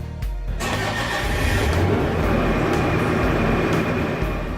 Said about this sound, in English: Lower the control console and start the engine.